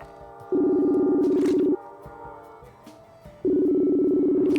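A phone being dialed inside a Call of Duty video game, heard as two long, loud steady electronic tones separated by a quieter gap, with game ambience underneath.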